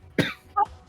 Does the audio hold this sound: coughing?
yes